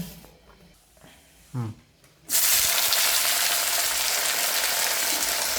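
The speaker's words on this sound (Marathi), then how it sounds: "तेल टाकले तेलावर चांगली परतून घ्यायची गवार" Cluster beans (guar) hit hot oil in a pan and burst into a loud, steady sizzle up close, after a few seconds of quieter handling sounds and a brief clatter.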